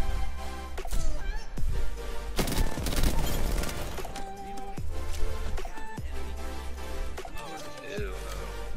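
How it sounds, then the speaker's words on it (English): Rapid gunfire bursts and impacts from the video game Apex Legends crackle in quick volleys, loud and dense, with a player's voice talking over the shooting. "Oh, stop shooting at me"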